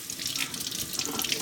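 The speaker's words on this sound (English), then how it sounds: "give these a little rinse" Tap water runs over Berkey water filter parts being rinsed in a sink, a steady splashing flow close by for its whole short length.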